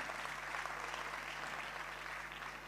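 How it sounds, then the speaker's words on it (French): Audience applause at a comedy festival show, steady, dense clapping from a large crowd filling the whole stretch without a break, heard alone with no talk over it. "on applaudit, s'il vous plaît"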